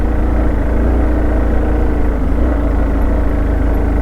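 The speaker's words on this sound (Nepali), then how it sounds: "2 गियरमा तानिरहेकै छैन क्या बाइकले" A motorbike engine labours loudly in second gear on a steep uphill road near Bhaktapur, producing a constant heavy drone that holds steady throughout with no voices.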